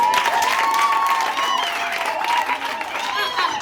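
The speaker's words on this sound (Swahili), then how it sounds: "Si makofi mazuri kwa Yesu" Applause for Jesus during a church service, a congregation clapping and cheering with shrill ululating cries over it, lively and sustained with voices mixed in.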